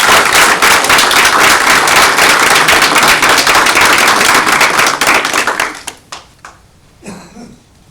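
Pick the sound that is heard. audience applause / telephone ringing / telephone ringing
audience applause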